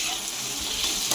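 Green chillies sautéing in a pan for poori masala give a steady, close hiss of sizzling oil, brief and unbroken.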